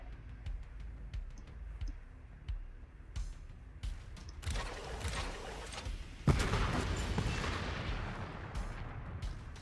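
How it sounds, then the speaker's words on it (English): Rockets explode in the game Warpips, with scattered sharp pops giving way to loud, dense bursts and a heavy explosion that trails off into rumble. "Just going to try and explode these with the rockets"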